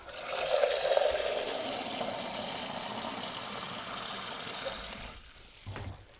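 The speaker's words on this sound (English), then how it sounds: "Again, I'm going to pop water in there." Cold tap water runs steadily from a faucet into a container for a fabric overdyeing bath, a continuous close rush for about five seconds before it cuts off into quieter handling noise.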